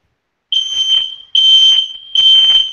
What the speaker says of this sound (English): Is that a fire drill? Is that like an alarm?